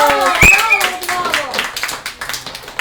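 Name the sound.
children clapping in class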